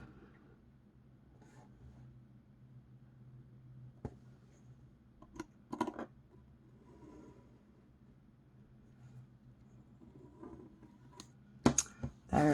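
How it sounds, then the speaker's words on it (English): Paper being trimmed for a planner: a few sharp, fairly quiet slicing clicks and brief swishes stand out at intervals against a faint, low background hum. "so I'm just going to do my trimming now."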